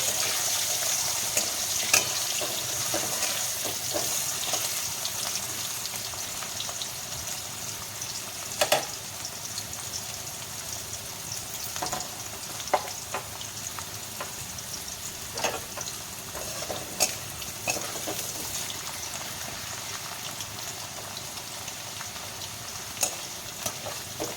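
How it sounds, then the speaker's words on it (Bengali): Potatoes frying in oil, a constant close sizzle with scattered clicks and scrapes from stirring at irregular moments, no talk over it. "তেলের মধ্যে দিয়ে দেব আলুগুলোকে ভালো করে ভেজে নেব"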